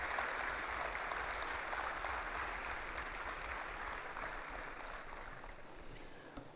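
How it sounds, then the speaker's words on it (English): Steady, fairly faint audience applause at a university new student orientation, a dense even patter of many hands that slowly tapers toward the end. "Let's give everyone a round of applause"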